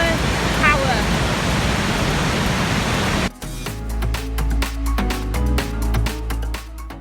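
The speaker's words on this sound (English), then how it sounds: "Welcome to Huaruro Waterfall. This is pure power." Huaruro Waterfall in Colca Canyon, Peru, roars as a steady broadband wash for about three seconds, then a sharp cut brings a louder, choppier rush with clattering bursts up close.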